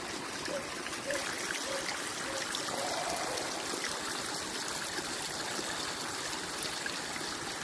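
A mountain stream runs down from the hills on a rural road, a steady close-up rush and trickle of water that continues without pause and with no voices.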